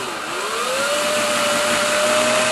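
Cordless drill fitted with a fast off tool spinning a stuck tap nut loose, a loud continuous motor whine rising in pitch and then holding steady, close up with no talking.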